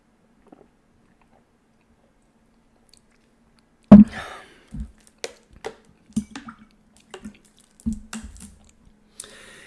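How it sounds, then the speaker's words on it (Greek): Water drips one drop at a time, a strong first plop followed by a scattered series of small, close drips and splashes with no voices. "Νεράκι."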